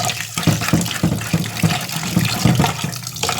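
Water splashes and sloshes in a rhythmic pattern, close and fairly loud, as cow's butter is washed in a second change of water.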